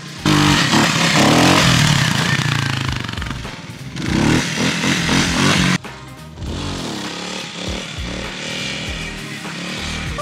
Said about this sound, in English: World's longest, sloppiest wheelie!